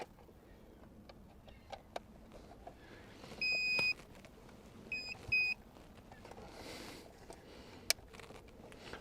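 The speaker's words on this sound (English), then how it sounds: "You heard a few beeps" Short electronic beeps from a remote engine starter module being installed in a 2019-2021 Kia Seltos sound in two bursts, a longer tone then a quick pair, over quiet background with faint clicks.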